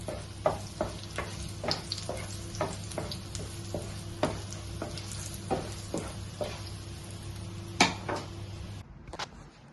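Kashmiri chilli powder sizzles steadily in hot tadka oil for a dal tadka, with a soft constant frying hiss punctuated by repeated clicks and scrapes of a spoon stirring in the pan.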